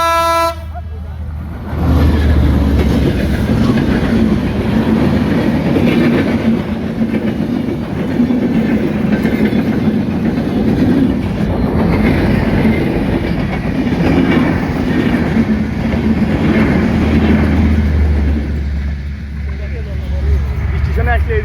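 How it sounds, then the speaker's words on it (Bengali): A train arrives at a railway station in the evening, sounding a horn at the start and then rumbling and clattering loudly and steadily throughout, with voices faintly in the background. "আর এই যে ট্রেন আসতেছে"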